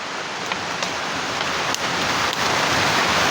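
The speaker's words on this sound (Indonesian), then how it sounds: "Hujan ini Mas." Steady rain falling outdoors, a constant dense hiss of drops with a few faint clicks, loud and unbroken throughout with no voices.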